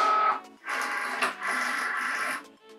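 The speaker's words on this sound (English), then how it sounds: "I'm going to load it into my machine here." A Cricut cutting machine loads a sheet of craft foam on a strong grip mat, giving a steady mechanical whir with short pauses between feeding bursts, close and fairly loud, with no talking.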